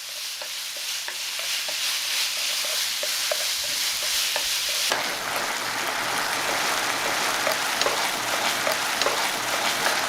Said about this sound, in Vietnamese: Mình cho hết chỗ thịt bằm vào và xào chín.